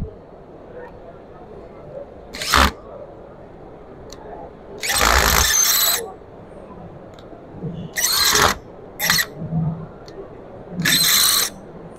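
A power screwdriver drives screws into a wooden panel for a screw withdrawal test at a Delhi wood expo, heard as several short, loud whirring bursts separated by pauses over a murmuring hall background.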